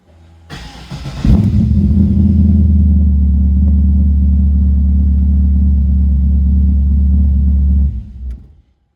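A Specvette C1 kit car engine cranks briefly at the press of a push-button starter, then catches and settles into a loud, steady, deep idle rumble close by before cutting off near the end.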